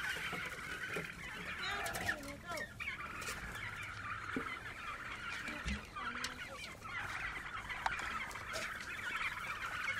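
Domestic turkeys gobble and cluck in a mixed fowl flock, with bursts of calls repeating over a steady farmyard background.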